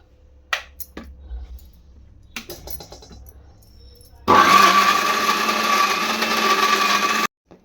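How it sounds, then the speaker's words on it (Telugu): A few faint clinks and taps, then a mixer grinder grinding dosa batter whirs loudly for about three seconds before cutting off abruptly. "ఇప్పుడైతే మిక్సీకి అయితే వేసేసుకున్నాం"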